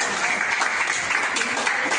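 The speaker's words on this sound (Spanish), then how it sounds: "un aplauso al equipo de ese hospital general" Continuous applause from an audience thanking a general hospital team, a dense steady wash of many hands clapping at even strength throughout.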